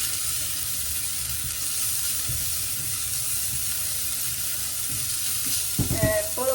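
Chopped lemongrass sizzles and fries steadily in hot oil in a home kitchen, a continuous broad hiss with a louder burst of crackle and stirring near the end.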